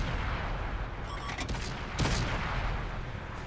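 Tank cannon and gunfire in the World of Tanks video game, light Cromwell tanks pelting a Panzer, a dense rumbling barrage of shots with sharp bursts around the middle, loud and continuous.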